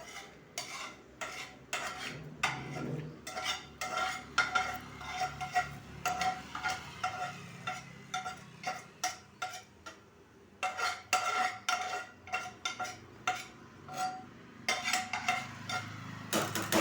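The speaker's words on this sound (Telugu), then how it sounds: "ఇప్పుడు పోపు అంతా ఇందులో వేసేద్దాం." A spoon stirs spice tempering into boiling tomato curry in a pot, rapid repeated metallic clinks and scrapes against the vessel in uneven bursts, close and without talk.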